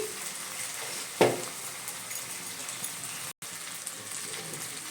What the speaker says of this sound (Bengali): এবার মশলাটাকে দিয়ে আমি ভালো করে এটাকে কষবো।